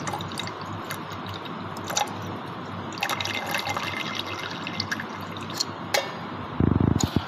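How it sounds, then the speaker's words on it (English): Water is poured off copper sulphate crystals in a beaker, a soft continuous trickle with small drips and clinks of glassware, ending in a louder burst of splashing, no talk. "See, I am just pouring the water"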